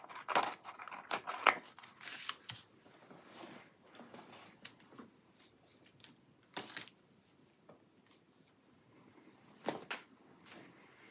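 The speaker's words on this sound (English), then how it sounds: "let's trim off some of it" Scissors trim paper in a planner at close range. Crisp snips come in a quick cluster early, with papery rustling and handling between them, then a few isolated cuts later. The level stays fairly faint.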